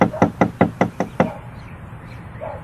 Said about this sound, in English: And guess who comes knocking at the door?